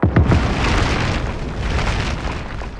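A loud blast opens, then a sustained roaring rumble of explosion and debris that slowly fades over a few seconds.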